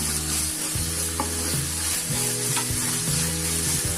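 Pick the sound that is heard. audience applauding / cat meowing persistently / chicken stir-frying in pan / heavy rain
chicken stir-frying in pan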